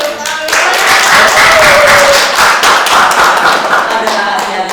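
A grade 12 class claps loudly and close by, a dense burst of many hands that swells quickly and keeps going before it thins out.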